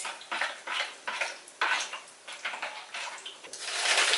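Homemade gel fish food for otocinclus fry being mixed by hand in a bowl, giving a steady run of soft wet squelching and scraping strokes, close and moderately loud, with no talking.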